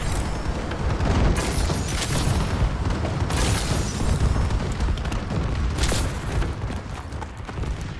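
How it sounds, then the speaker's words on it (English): Continuous heavy rumble of bombing-run explosions in a Call of Duty match, with booms overlapping into a dense roar and a few sharper blasts standing out above it. "Friendly bombing run incoming."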